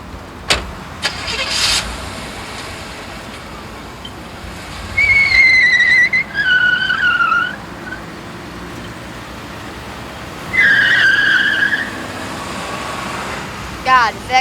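A car pulls away with its engine revving and tires squealing in high, wavering whines, two long squeals then another, over a steady background of road noise.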